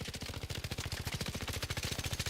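Rapid sustained automatic gunfire in the Arc Raiders video game while a rifle's recoil is tested, a fast, even rhythm of loud, punchy shots running continuously without a break.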